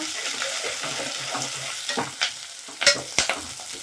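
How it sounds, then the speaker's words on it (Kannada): Brinjal curry with curry leaves and onion being stirred in hot oil, soft sizzling under scraping stirs, with a few sharper utensil clacks toward the end, close up and without speech. "ಇದನ್ನು ಇಲ್ಲಿ ಚೆನ್ನಾಗಿ ಮಿಕ್ಸ್ ಮಾಡ್ಕೊಬೇಕು ಈ ಥರ"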